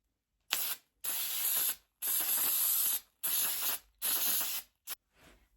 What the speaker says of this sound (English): It's foam and fabric spray adhesive